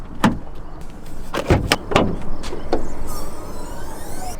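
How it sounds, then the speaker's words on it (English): The hood of a Volkswagen Golf R is popped, with a few sharp mechanical clicks and clunks of the release and latch up close, followed by a softer rustling settle. "we actually have to pop the hood."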